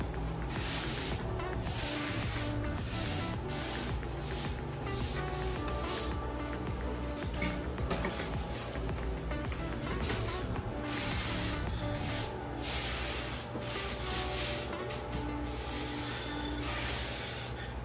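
Sand being smoothed out into an even bed in a new 30-gallon lagoon aquarium, heard as a steady close hissing, swishing scrape that runs continuously with small shifts in texture, no talking.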